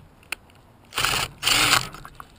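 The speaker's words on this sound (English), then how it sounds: "I'm going to take the top screw out right here." Small power tool backing out a tiny screw on a Traxxas Stampede RC truck: two short, close whirring bursts separated by a brief gap, with faint clicks before and after.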